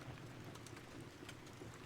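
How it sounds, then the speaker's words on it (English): Steady rain pattering on a roof, a soft continuous hiss with scattered faint drop ticks, quiet and even throughout with no voices. "blending harmoniously with the pattern of rain on the roof."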